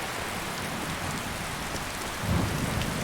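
Steady heavy rain hisses in the Skyrim video game, with a low rumble of thunder rolling in near the end.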